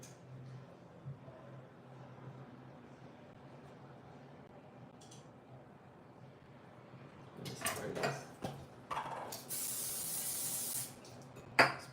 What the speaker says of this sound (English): Spraying the knife, let's see. That'll help.